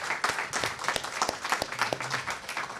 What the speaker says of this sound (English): Let's have a round of applause to welcome these distinguished panelists.